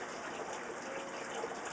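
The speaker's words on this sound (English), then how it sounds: "everything is plumbed in a way where the water is just cycling back through." Water gushes steadily through the plumbing and overflows of patio garden fish and crawfish tanks, a continuous close rushing and splashing with no pauses.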